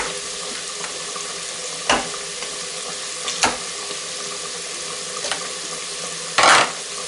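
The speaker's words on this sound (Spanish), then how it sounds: "ahora ya vamos a colocar el pollo y vamos colocando ahora" Chicken pieces going into a pot with white wine to sizzle, giving a steady, soft frying hiss with a few sharp clinks and knocks, one louder clatter near the end.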